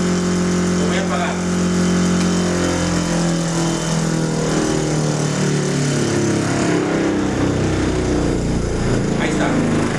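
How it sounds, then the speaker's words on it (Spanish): Electric motor of a mechanical vibrations laboratory rig winding down after being switched off, a steady loud mechanical hum with sliding tones as it slows through resonance, continuous throughout. "Al momento que yo apague el motor, tiene que volver a pasar por la frecuencia natural y vuelve a entrar en resonancia."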